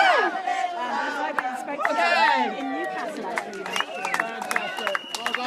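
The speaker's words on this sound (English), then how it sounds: "if they can't hear us, we'll shout a little louder" Many voices shout together in a lively outdoor crowd at a charity bike ride send-off in Manchester, a dense, overlapping roar of yells and chatter that swells mid-way and carries on steadily.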